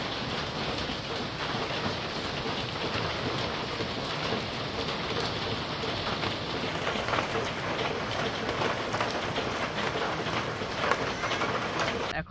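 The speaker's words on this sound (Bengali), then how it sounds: "সকালবেলা থেকে এই যে বৃষ্টি।" Steady rain falls on a village, a dense even hiss of drops on surfaces that stays constant and fairly close throughout, with no voices over it.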